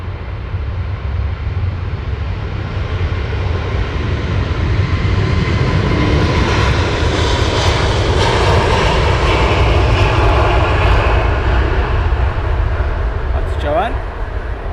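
An Airbus A350 jet at London Heathrow Airport roars steadily and loudly throughout, a broad sustained engine rumble with a rising whine as it passes close by, and talk can be heard beneath the noise.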